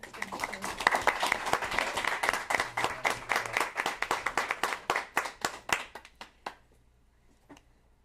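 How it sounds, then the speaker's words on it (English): Dense applause from people at a city council meeting honoring military veterans' families, loud and steady at first, then thinning to a few scattered claps before falling silent. "Can I get a round of applause, y'all?"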